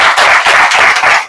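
An indoor audience claps in unison at a business seminar, a short loud burst of dense applause close by.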